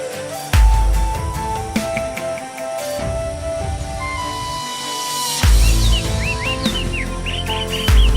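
Birds in the Amazon rainforest, including long-tailed parrots, let out repeated short chirps and whistled calls. They sit inside a dense layer of music, with low thuds at intervals.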